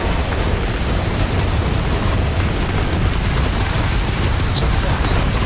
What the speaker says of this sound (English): Probably Vigilance shooting us.